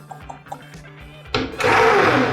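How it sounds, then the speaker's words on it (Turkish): A blender switches on and whirs loudly, puréeing apricots with water for homemade apricot juice; soft taps and clatter come first, then the motor roars steadily up close. "Tekrar blenderımı çalıştıracağım."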